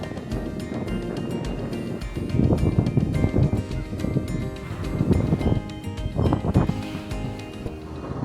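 A small boat carrying three people pushes across open sea near a Philippine island, with steady wind buffeting the microphone, engine drone and slapping waves swelling in louder bursts throughout.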